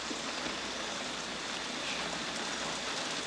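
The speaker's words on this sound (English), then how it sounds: "Right now, it's pouring rain." Pouring rain makes a steady, dense hiss throughout, loud and even, with no voices over it.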